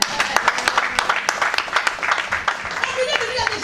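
Congregation clapping through a thanksgiving church service, a steady run of hand claps with cheering and voices mixed in, carrying on for several seconds.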